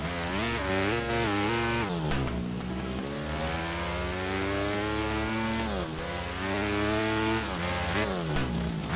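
A motocross bike engine in the game MX Bikes revs hard and continuously, its pitch climbing and dropping through repeated gear shifts, loud and close with no voices over it.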